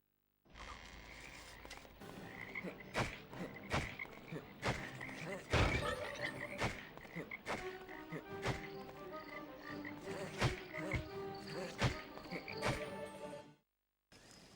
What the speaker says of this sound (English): I said this game has frogs